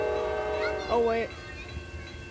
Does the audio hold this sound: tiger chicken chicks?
no